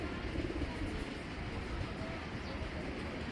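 Racing pigeons coo faintly against a steady wash of background noise, a soft, low burble that is barely above the surroundings.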